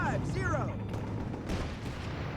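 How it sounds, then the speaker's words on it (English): Mortar airburst shells bursting in Company of Heroes 3 urban battle, a cluster of muffled booms and crackling blasts layered with other battlefield noise under a moderate level. "Airburst shells, I believe"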